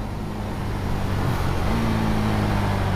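Husqvarna Vitpilen 701 single-cylinder motorcycle riding on a road, engine drone steady with pitch shifts as auto-blipper downshifts rev the engine, heard over continuous wind and road rumble.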